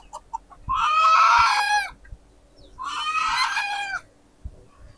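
Domestic geese and chickens calling at a house in rural Bangladesh, two loud, drawn-out honking-crowing calls close by, separated by quieter clucks and clicks, with no talk.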